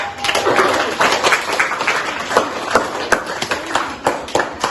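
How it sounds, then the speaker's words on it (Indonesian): Applause for presenters Rian and Ari at a school class gathering, with many hands clapping in a lively, uneven patter that holds steady throughout and swells in spots. "kita berikan aplaus untuk Rian dan Ari"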